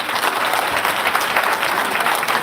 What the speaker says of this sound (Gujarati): જોરદાર તાળીઓ થઈ જાય